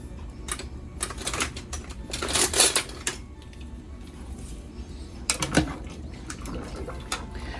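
Dry pasta noodles are tipped into a pot of water on a home stove for Cajun pasta, making bursts of clattering, rattling pieces and a few splashes, separated by quieter pauses.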